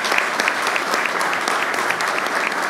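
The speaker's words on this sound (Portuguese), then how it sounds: "Para elas também peço-vos uma salva de palmas." An audience at a municipal assembly in Águeda applauds a quartet, with dense, lively, continuous clapping at close range and no pause across the short stretch.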